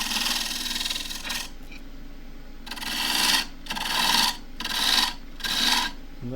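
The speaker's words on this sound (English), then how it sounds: "I've got a small skew which will fit in there. That's the peeling cut." A small skew chisel making a peeling cut on a wood lathe gives a raspy, scraping hiss, first steady and then in four rhythmic rasping passes with short gaps, close and fairly loud.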